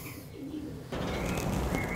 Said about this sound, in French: Les oiseaux sont en train de venir manger.